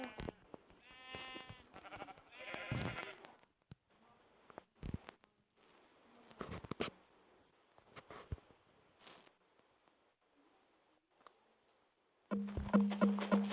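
Sheep in the video game Minecraft give a few short bleats, clearest early on, between scattered clicks and quiet gaps, with a louder burst of game noise at the end.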